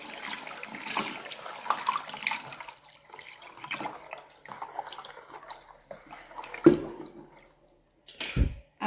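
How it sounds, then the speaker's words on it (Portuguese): Three litres of room-temperature water are poured into a container for homemade coconut liquid soap, irregular splashing and gurgling pours that come and go, close and moderately loud, with a heavier thump near the end. "Aqui eu vou pôr 3 litros de água em temperatura ambiente."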